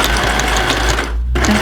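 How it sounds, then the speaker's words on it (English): A sewing machine runs steadily while stitching a zipper seam, its rapid mechanical whir continuous and close, with a brief pause near the end before resuming. "The sewing machine."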